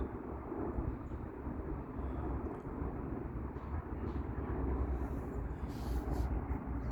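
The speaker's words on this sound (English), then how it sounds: "It is just a plane. It's just a plane." A low, steady rumble of an airplane passing overhead, distant and broad, with faint outdoor noise on top.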